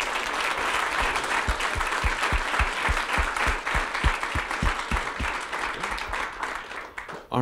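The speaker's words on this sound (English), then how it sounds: "Let's give him a big round of applause." An audience at a Kansas City startup pitch event applauds, a dense patter of many hands clapping at moderate loudness for several seconds before tapering off near the end.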